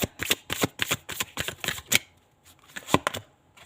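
Tarot cards are shuffled in a close, crisp series of quick riffling flutters, then a short pause and a couple more snappy bursts as cards are drawn from the deck.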